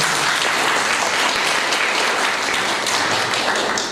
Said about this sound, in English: You really deserve a big round of applause.